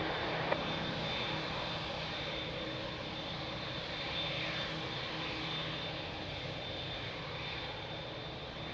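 Airliner on approach to runway 02 at Lisbon Airport, its engines producing a steady, fairly distant broadband roar and whine that holds evenly from start to finish.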